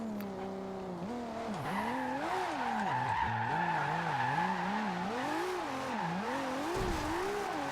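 A tuned Toyota Supra of about 1400 bhp in Forza Horizon 2 slides with its tires skidding, a continuous wavering squeal riding over a high-revving turbo engine, loud and close throughout.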